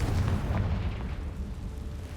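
Confringo, a fiery blast spell in a Hogwarts video game, erupts as a loud, dense rumbling explosion that roars continuously and slowly fades over about two seconds.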